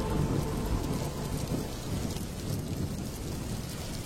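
Heavy rain pours down in a cartoon scene, a dense steady hiss of drops with deep rolling thunder rumbling underneath throughout, no voices.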